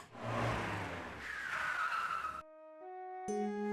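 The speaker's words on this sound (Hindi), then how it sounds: "गाड़ी रोक दीजिए।" A car brakes hard to a stop with a rough, skidding rush of tire and engine noise, then the sound drops out into sustained musical tones.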